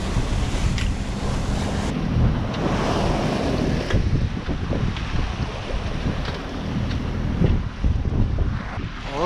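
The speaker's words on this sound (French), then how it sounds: "La crête des vagues est agressée par le vent qui lui vient de face et donc elle blanchit." From a sailboat crossing the Mediterranean into a heavy head-on swell, waves break and surge while a strong headwind buffets the microphone, with a continuous loud roar and a motor running underneath.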